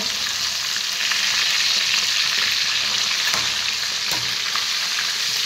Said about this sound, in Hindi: देखु माछ भजा हो 2 खंड माछ पड़े कड़ा